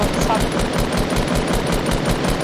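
Rapid automatic gunfire in the Fortnite Battle Royale video game, a loud, evenly spaced burst of shots running continuously, with a voice talking over it.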